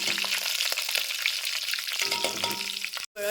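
Garlic fries in hot oil in a home kitchen, giving a steady, close, crackling sizzle with a few stirring scrapes before a brief cut at the end.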